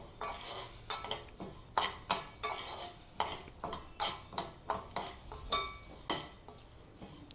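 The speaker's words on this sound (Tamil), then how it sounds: "இது கூடயே 1 teaspoon coriander, 1/2 teaspoon jeera, 1/2 teaspoon pepper, அப்புறம் கொஞ்சம் கருவேப்பிலை போட்டு அதையும் லைட்டாக வறுத்துக்கலாம்." Coriander seeds, cumin, pepper and curry leaves dry-roast in a pan for a protein soup premix, stirred with a utensil that scrapes and taps the metal in a quick, regular series of crisp strokes, close and alone.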